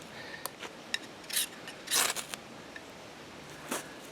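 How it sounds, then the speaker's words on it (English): A knife spine scrapes down a ferro rod, throwing sparks, in a handful of faint, quick rasping strokes scattered over a few seconds against quiet outdoor background. "Peels that metal off of this ferro rod like nobody's business. Really good sparks."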